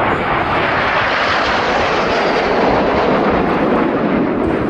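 Red Arrows jets trailing red, white and blue smoke in an airshow display produce a loud, steady, broadband roar that holds unbroken throughout.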